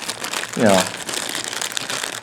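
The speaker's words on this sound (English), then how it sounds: "So what I'm going to do is draw one at random. I know it's a clear plastic bag" Wind change tokens are fished out of a clear plastic bag, making a short, close burst of crinkling plastic in the middle while a voice talks throughout.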